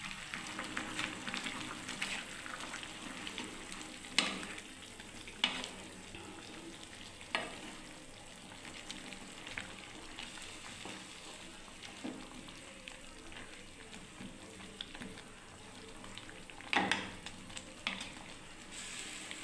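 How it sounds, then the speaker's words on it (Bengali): Mango chutney with jaggery, dates and raisins being stirred in a pan: a low steady sizzle broken by scattered scraping knocks of the spoon, a few louder clacks standing out near the end. "এবার আমি নাড়তে থাকবো"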